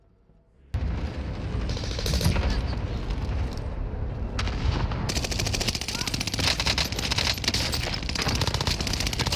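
Call of Duty: Warzone gunfire, sustained rapid automatic bursts and shots starting abruptly after a quiet moment and continuing loudly, close-up, with mechanical clatter in the mix.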